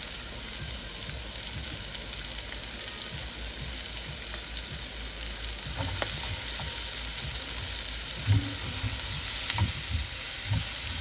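Chopped onions sizzle in hot oil for a chicken-stuffed pasta dish, a steady loud frying hiss throughout, with a few soft clinks and stirring taps toward the end and no talking.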